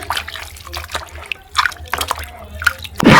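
Tripe is washed by hand in a basin of water, with close sloshing, dripping and splashing in irregular bursts and a louder splash at the end over a low hum.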